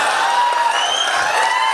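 An audience claps and cheers in a dense, steady wash of applause at a Hindi poetry recital, loud and continuous without pause throughout.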